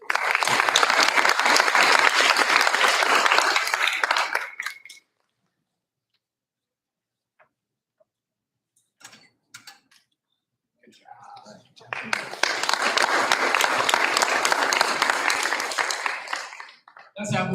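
A school board meeting audience applauds students of the month in two bursts of dense clapping, with a quiet gap between them filled by faint shuffles and murmurs.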